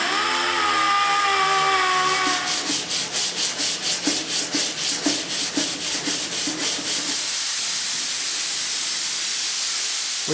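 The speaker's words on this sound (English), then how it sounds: "When you put the block sander on there and you start sanding" A sanding block rubs back and forth over primer on a 1970 Camaro body in quick, even strokes, about a dozen rasping passes in a row, then a steady hiss trails off.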